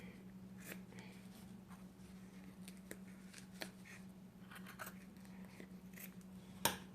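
Scissors snipping through upholstery material along the inside of a chair arm, a series of faint, scattered cuts over a steady low hum, with one sharper snip near the end.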